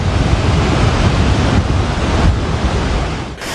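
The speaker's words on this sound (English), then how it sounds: "All 8 sluice gates of the Victoria Reservoir were opened last night. Water is being released to the Ramdenigala Reservoir." Water pours from the eight opened sluice gates of the Victoria Reservoir in a loud, steady roar of broadband rushing noise, unbroken and without voices.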